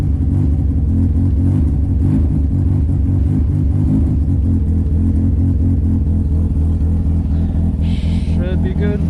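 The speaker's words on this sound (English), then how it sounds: "just give it some throttle. Just let it get up to temp a little bit" A Mazda RX7 rotary engine, freshly installed and warming up, runs loud and close with a rough, pulsing idle and throttle blips, while a voice talks briefly over it.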